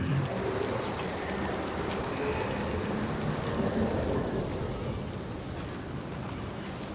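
A storm brought by the sea giant in Hellblade 2: steady heavy rain and wind with a deep rumbling undertone, continuous and enveloping, with no voices.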